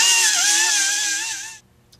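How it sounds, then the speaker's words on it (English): A small angle grinder fitted with a surface conditioning disc whines loud and steady at high speed while cleaning parts during an LS-type Vortec V8 water pump replacement, then cuts off abruptly and goes quiet. "I'm going to use my small angle grinder with a surface conditioning disc on it."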